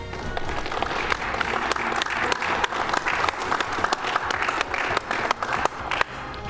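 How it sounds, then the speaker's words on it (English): Audience at the SGDQ 2014 speedrun marathon applauding, a dense, sustained wash of clapping from a large crowd filling the room, loud and close throughout. "Can I get a round of applause for not only the runners, but especially for all the hard workers off camera?"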